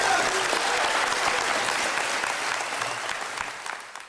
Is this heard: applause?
yes